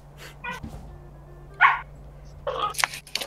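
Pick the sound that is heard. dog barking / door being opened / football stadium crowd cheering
dog barking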